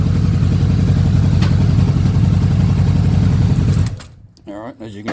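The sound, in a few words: 2017 Honda VFR800F motorcycle engine idling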